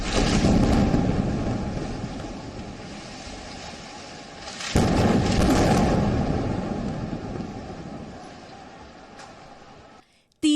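Two powerful booms, several seconds apart, each followed by a long, deep rumbling decay that gradually dies away.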